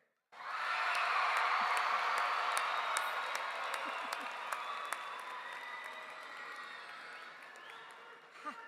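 A commencement ceremony audience breaks into sustained applause and cheering, a dense wash of clapping with scattered whoops that rises abruptly, then slowly thins out, heard from a distance at low level.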